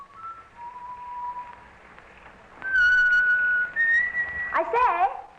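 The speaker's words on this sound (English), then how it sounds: "He rode along at a leisurely pace and whistled as he went." A man riding a bicycle at a leisurely pace whistles a clear, wandering tune, soft at first and then louder, with higher sustained notes and a quick warbling flourish near the end.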